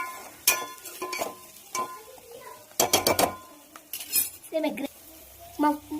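A metal spoon scrapes and clinks against a pan while turmeric is stirred into chicken, sharp scattered taps and short stirring strokes over a faint sizzle, with brief talking between them.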